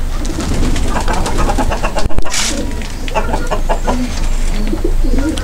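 Birds coo and cluck nearby in a busy flock, repeated soft calls overlapping, with a brief flutter or bump midway.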